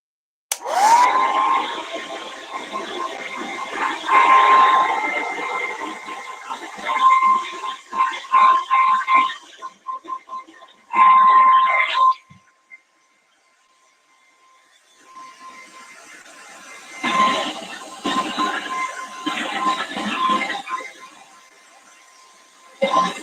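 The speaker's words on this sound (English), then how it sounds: "I'm going to give this another little blast with the hair dryer" A hair dryer blows in loud, hissing bursts that start and stop several times, with short pauses and a longer quiet gap between runs.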